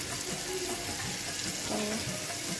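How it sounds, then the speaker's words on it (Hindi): Chopped ginger goes into browned onions frying in a pan for fish biryani, giving a steady, close sizzle with soft crackles and a little stirring. "ये जी प्याज ब्राउन हो गया, अभी इसमें डालते हैं अदरक"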